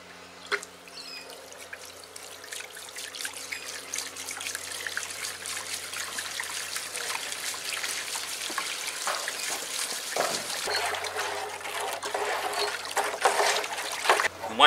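Water poured and trickling into a citric acid mixture for a sour drink, a steady splashing pour that builds and then fades near the end, with no voices over it.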